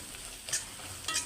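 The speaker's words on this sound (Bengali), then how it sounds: "এখন নেড়ে চেড়ে নেব।" Cabbage sizzles and crackles in hot oil in a pan as it is stirred, with two brief scrapes of stirring standing out over a steady frying hiss.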